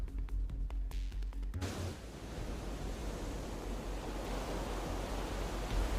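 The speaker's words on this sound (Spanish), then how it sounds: "Hay olas de hasta 3 metros de altura." Large waves up to three metres high surge onto the coast at Callao, Peru, during an unusual swell, a loud continuous roar of surf and rushing water with wind, steady throughout after a brief opening of other sound.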